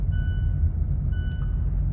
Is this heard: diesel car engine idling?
yes